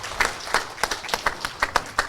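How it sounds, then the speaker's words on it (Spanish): A few members of a church congregation clap in worship, giving sparse, uneven claps with gaps between them, fairly close and moderately loud, and no voices over them. "Aplauso a nuestro Dios."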